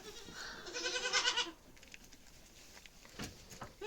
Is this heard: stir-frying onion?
no